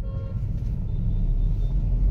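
A 2020 Hyundai Aura 1.2 SX running in petrol mode, heard from inside while driving: a steady low engine drone and road rumble that holds at an even, moderate level, with no speech.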